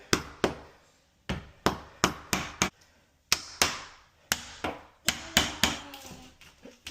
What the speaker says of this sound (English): So here, we're just going to hammer upward.